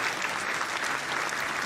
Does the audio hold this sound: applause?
yes